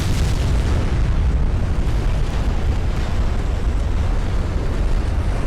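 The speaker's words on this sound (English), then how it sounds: "We've got our own flash fire." A ship's flash fire explodes in the naval battle game Ultimate Admiral Dreadnoughts, a loud, sustained roaring boom with deep rumbling that fills the whole moment without letup.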